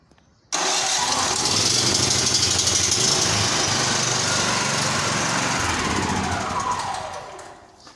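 A petrol electricity generator starts abruptly and runs with a steady, loud buzzing engine drone close by, then winds down and fades near the end.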